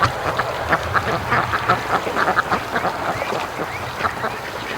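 Muscovy ducks quacking in a busy morning rush home, many overlapping calls close by in a steady, lively stream with no talk.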